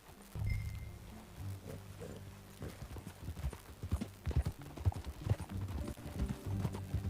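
Horse hooves clip-clop steadily on a ride through Red Dead Redemption 2, a rhythmic run of hoof strikes that grows busier and louder toward the end, with low rumbling game ambience underneath.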